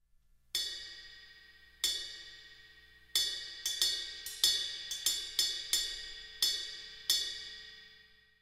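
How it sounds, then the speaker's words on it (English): Ride cymbal bell struck with the shoulder of a drumstick on a drum kit, about ten bright ringing hits in an uneven rhythm, each with a sharp attack and a long shimmering decay, close and alone. "We're back to the shoulder of the stick, and the bell part of the cymbal sounds like this."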